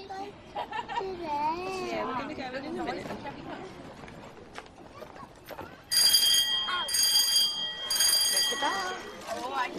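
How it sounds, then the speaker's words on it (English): A school bell rings at a children's school entrance, a sustained bright ringing that starts partway through and continues loudly to the end, following a stretch of music and voices. "When the bell rings, school begins."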